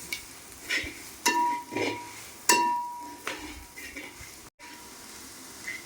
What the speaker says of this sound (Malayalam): മല്ലിപ്പൊടി മുളക് പൊടിയൊക്കെ അതിൻ്റെ പച്ചമണമൊക്കെ പോകുന്നവരെ നന്നായിട്ടൊന്ന് വഴറ്റിയിട്ടുണ്ട്